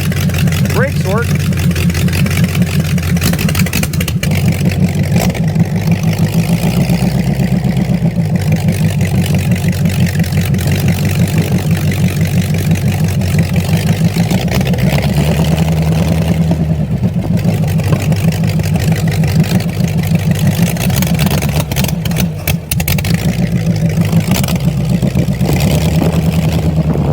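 A Nailhead-powered rail dragster engine runs loud and steady for the whole stretch, a deep, continuous rumble with slight surges in pitch as it idles and pulls in low gear, close by.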